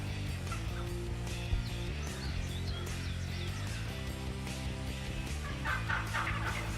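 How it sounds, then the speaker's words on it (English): A big wild turkey gobbler gobbles during a Wisconsin hunt, loud and close, with repeated rattling gobbles over a steady outdoor background across several seconds. "Joe decides to drop the hammer on this big Wisconsin gobbler"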